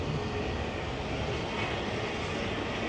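A Caterpillar D318 diesel engine powers an antique Bucyrus Erie earth-moving machine at a Connecticut antique machinery show, a loud, steady, dense roar that continues unbroken and close by.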